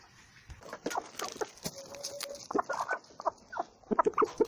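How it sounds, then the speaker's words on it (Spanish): Several chickens cluck and chatter in short, irregular bursts, fairly close, with a brief whistle-like tone partway through. "Pues ya veis quién se está encargando de reciclar aquí. Las gallinas."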